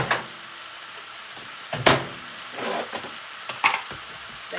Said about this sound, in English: basically everything in there is sizzling